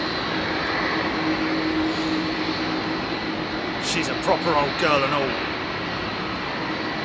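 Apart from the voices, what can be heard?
Boeing 757 with RB211 jet engines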